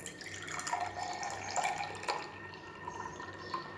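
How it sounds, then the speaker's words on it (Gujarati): Milk poured into a glass while making mango falooda, a steady liquid stream running for the whole stretch with light splashing, close and alone. "અડધો ગ્લાસ દૂધ એડ કરીશું"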